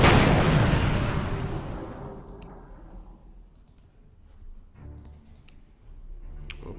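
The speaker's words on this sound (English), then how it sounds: "we're gonna go ahead and move the DD Type 2, Type 1934, sorry, and open fire on the gunboat" A destroyer (Type 1934) fires on a gunboat in the naval strategy game Order of Battle: Kriegsmarine, a loud booming shot decaying over a couple of seconds, followed by fainter clicks and a softer secondary rumble.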